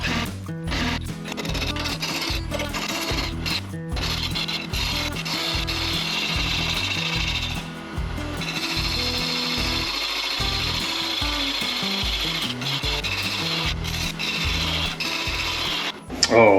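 A lathe tool cuts a cherry and maple wood vase with a coarse, rasping scrape that repeats in steady pulses as the piece spins, loud and close, with a brief pause midway and no talk.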